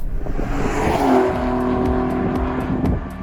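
A Maserati sports car with the MC20 engine drives past nearby, a loud engine note that swells and shifts in pitch over a few seconds.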